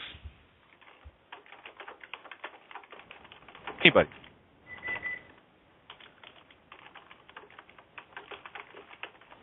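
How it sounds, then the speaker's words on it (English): Rapid keyboard typing clatters in the background during an online livestream, a steady patter of small clicks running under and between voices, with one louder bump midway. "someone's typing up a storm in the background"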